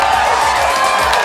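Audience at a Palembang music show clapping and cheering for singer Alika, a dense, steady wash of applause with crowd noise throughout, no clear pauses.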